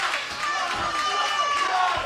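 An arena crowd at a RWA Dynasty wrestling event roars in a steady, broad wash of cheering that stays loud throughout, with a voice talking over it.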